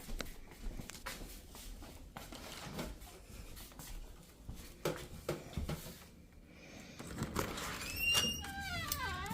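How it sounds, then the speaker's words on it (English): A farm cat in a garden gives a few faint rising meows near the end, after quiet rustling and handling noises outdoors. "It's one of our farm cats here."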